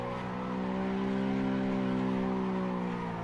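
A car drifting in Assetto Corsa on a Scottish course, with a sustained, tonal tire squeal and engine drone that swells slightly and holds steady for about three seconds.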